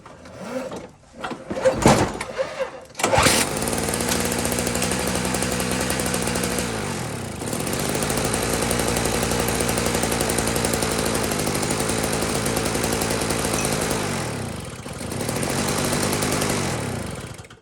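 A Toro snow blower engine sputters and knocks briefly, then catches and runs with a loud, steady, rough chugging drone up close for over ten seconds, easing slightly near the end.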